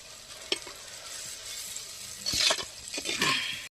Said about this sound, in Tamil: இஞ்சி பூண்டு ஸ்மெல் வந்துட்டு நமக்கு போகிற வரைக்கும் கொஞ்சம் இதை வதக்கி எடுத்துக்கலாம்